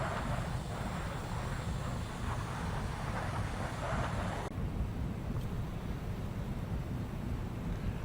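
Steady, loud engine roar from an Arado Ar-234 jet bomber in the IL-2 flight simulator, flying on its one remaining engine at low speed near 200 km/h; broadband and continuous with a slight tonal shift midway, no voices.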